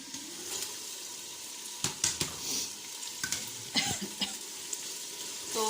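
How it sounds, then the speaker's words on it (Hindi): Minced beef keema for a Lahori-style recipe sizzles steadily in a hot pan, with sharp, irregular scrapes and clatters of stirring rising over the continuous frying hiss; no talking. "अब इसके अंदर हम डालेंगे अपना कीमा।"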